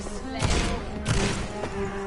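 Gunfire in the video game Vampyr: two heavy shots land about half a second apart, each a booming thump with a short decay, set against a steady game background.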